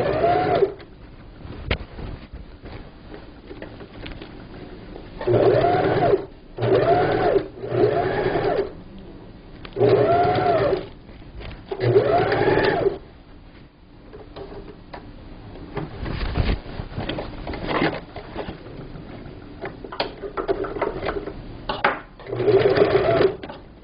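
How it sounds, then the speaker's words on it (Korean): Sewing machine running a double line of stitching along a seam of a low-table cover, in several steady whirring bursts separated by short pauses, close and moderately loud. "두 줄 박음질을 해보겠습니다."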